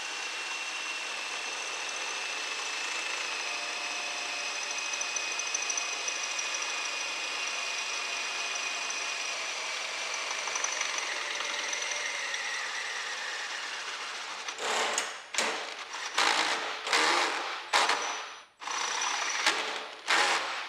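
A 12-volt DeWalt power tool works on a Polaris 325 4x4 motor mount, a steady high-pitched whir running continuously, then cutting into a series of short, loud bursts near the end.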